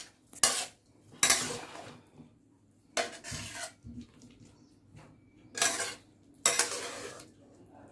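A spatula scrapes and clatters against a pan while stir-fried basil squid with eggplant is scooped onto a plate, in five distinct scraping bursts separated by quiet gaps, with no talking.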